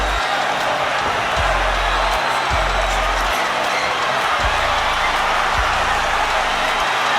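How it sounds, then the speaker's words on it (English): A boxing arena crowd roars in a dense, sustained wash of cheering for the fighters, loud and continuous throughout, with a few dull low thumps breaking through. "The crowd is in a fever pitch."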